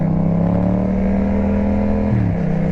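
Loud, steady engine roar of motorcycles, including a Yamaha Tracer, MT-07, R25, KTM RC, Suzuki FXR and RS200, running on a speedway track, a continuous drone that shifts pitch near the end as an engine changes speed.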